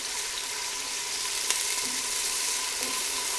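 Chopped onions with a pinch of salt sautéing in a hot pan, a steady close hiss and crackle with a couple of faint clinks, no talking.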